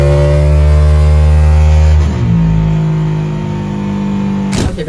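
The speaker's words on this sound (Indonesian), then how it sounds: "Dan langsung aja kita tes dyno." Motorcycle fitted with a 63 bore-up kit revs hard on a dyno, a loud continuous engine roar climbing steadily in pitch, then dropping back to a rougher, lower drone before a brief rise near the end.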